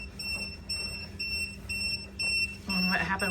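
An Alexa smart speaker's electronic alarm beeps in a steady repeating pattern, fairly faint at first and getting more prominent toward the end, with a voice nearby.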